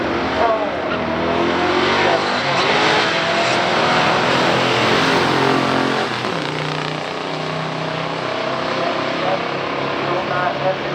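A 1970 Chevrolet Corvette with a big-block 454 and four-speed drag racing a 1968 Buick GS 400 at a stock drag race, loud roaring engines accelerating hard with dense engine roar throughout, a commentator talking over it.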